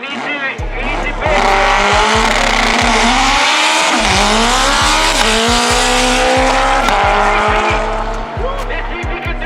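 A 1,000 HP K-series four-cylinder all-wheel-drive car on a drag racing run, its engine screaming loud and close through rapid gear changes with sharp dips between shifts, under excited commentary.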